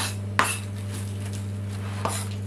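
A knife cuts through a cabbage half on a board with two sharp, close chops about a second and a half apart, over a steady low hum and no talking.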